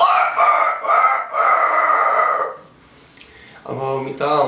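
A man mimics a hoarse rooster, producing a loud, raspy crow broken into several strained pulses, then a brief quiet gap before a shorter voiced call.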